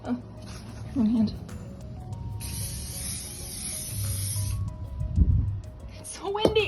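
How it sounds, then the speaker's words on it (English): An aerosol can of fixative hisses in one sustained burst of about two seconds outdoors, with gusty wind and a person talking around it. "I am gonna spray them with fixative"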